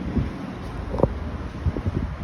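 Steady outdoor wind on a cold, rainy day blowing across the microphone, a low rumbling buffet with a few faint knocks and rustles, no voices.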